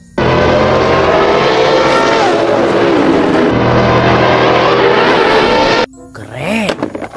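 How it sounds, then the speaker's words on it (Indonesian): A toy race car's sound effect plays a loud, continuous revving engine roar with rising and falling pitch for several seconds, then cuts off into a brief screeching tail. "ada mobil balap"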